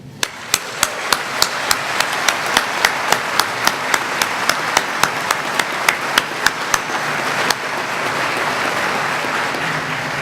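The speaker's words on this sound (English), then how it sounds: "join me in giving a huge round and a well-deserved round of applause for your world-class faculty and staff" Graduation audience at a 2018 winter quarter ceremony gives a sustained round of applause for faculty and staff, a dense wash of clapping with sharp regular percussive knocks punctuating it for several seconds before the knocks stop and the applause continues.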